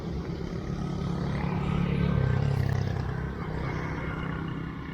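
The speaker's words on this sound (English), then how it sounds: "apart from the traffic from the major road just here" Steady traffic roar from a major road beside a river, a broad continuous rumble swelling slightly in the middle and holding at a moderate, fairly close level throughout.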